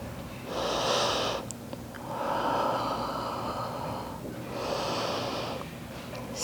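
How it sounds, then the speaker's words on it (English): Slow, deep breathing during a restorative aerial yoga session, three long airy breaths in and out, each swelling and fading, close and fairly soft against a quiet room. "Breathing it in, exhaling it out."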